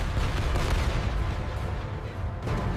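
An A-10 Warthog's GAU-8 cannon fires on anti-aircraft guns in the Iraq War, making a loud, sustained roaring burst that holds steady for nearly three seconds with no voices.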